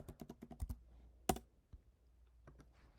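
Keys clatter on a computer keyboard as text is entered into spreadsheet cells: a quick run of close clicks, a sharp louder strike, then a few scattered taps, with no voices.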